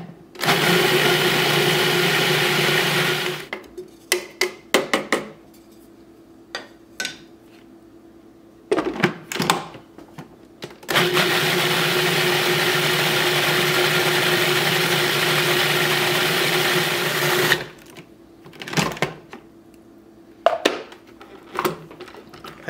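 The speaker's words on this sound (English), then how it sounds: "I blended that for around about 2 minutes, and it's smooth" A food processor whirs loudly through curry paste ingredients, including red wine vinegar, in two long steady runs separated by a pause full of clattering and knocking as it stops and restarts.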